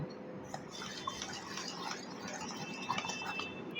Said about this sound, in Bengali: এখন আমি ব্যাটারটাকে এর মধ্যে ঢেলে দেব